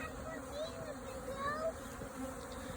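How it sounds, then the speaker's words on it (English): Honey bees from three active hives in Ohio buzz steadily while bringing in maple pollen, with many overlapping wingbeat hums drifting up and down in pitch and passing close by against a constant droning background. "Just bringing in pollen like crazy. All three hives are really active."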